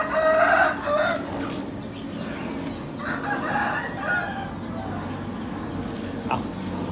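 Hens cluck and squawk as they are caught in a busy coop in Thailand, with a rooster crowing nearby and steady farmyard background noise throughout.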